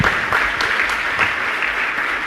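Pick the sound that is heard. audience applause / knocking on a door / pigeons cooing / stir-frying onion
audience applause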